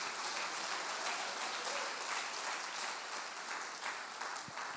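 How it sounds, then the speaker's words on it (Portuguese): A church congregation claps together in steady, dense applause that fills the room at a constant level throughout, with no voices standing out over it. "As palmas para Jesus, diga glória"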